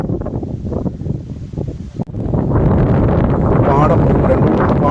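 Wind sweeping across a blooming sunflower field, rough gusty rushing that buffets the microphone and swells louder and steadier halfway through, with a voice speaking over the first part.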